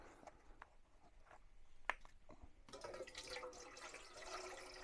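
Water is poured into a pot set on a camping stove, starting with a few faint drips and clicks before a close, steady trickling pour fills the rest.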